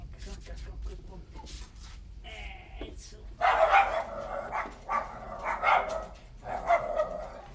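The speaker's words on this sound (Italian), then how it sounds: "Qui c'è anche il canile di Tignano. Ci sono cani" Dogs at a kennel bark in a series of sharp, fairly close barks after a quieter start with faint noise and a brief whine, the barking coming in irregular bursts over the background.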